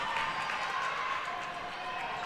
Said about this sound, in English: this crowd is coming alive